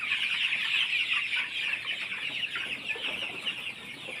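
A flock of Sonali chickens on a farm clucks and chatters continuously nearby, many overlapping soft calls forming a busy, steady murmur.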